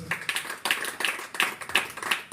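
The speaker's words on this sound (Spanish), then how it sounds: "Dale un aplauso." A church congregation claps in a sparse, rhythmic pattern, a handful of sharp hand claps repeating roughly twice per second at moderate distance.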